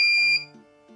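A PIR motion sensor alarm built as a STEM project sounds a steady high electronic buzzer tone that drops in level partway through, then continues quietly for the remaining moment.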